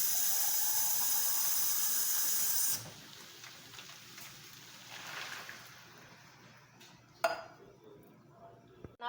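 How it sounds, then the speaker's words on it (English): Water poured into a pan of ground beef and Manwich sauce gives a loud, steady sizzling hiss for about three seconds. It then settles into a quieter simmer with a faint clink near the end. "I'm going to add about a cup of water."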